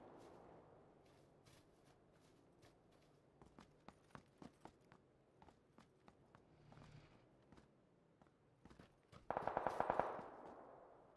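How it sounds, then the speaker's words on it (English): Footsteps in the video game PUBG, a run of quiet rhythmic thuds that builds to a louder, faster burst near the end over a low background. "I heard footsteps right after that bike."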